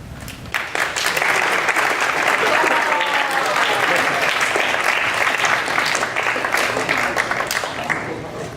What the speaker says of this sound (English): Does anybody have wild applause?